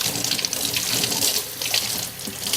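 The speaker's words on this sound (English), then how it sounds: "Just go ahead and wet our hands." A running water tap splashes over hands being wet while making homemade sushi rolls, a steady close hiss and spatter of flowing water at a sink that continues throughout without speech.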